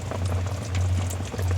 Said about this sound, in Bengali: আমার তেল দিয়েছি, তেল গরম হচ্ছে।